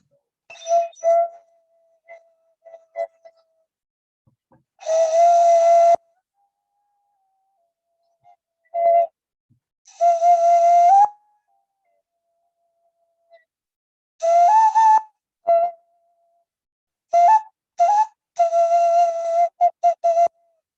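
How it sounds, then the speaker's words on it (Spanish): Breathy, whistling tones from a guairachina, an Andean cane wind instrument, come in short separate phrases with silent gaps between them, some notes held and others clipped quickly. "Que es un guairachina para poder producir el viento"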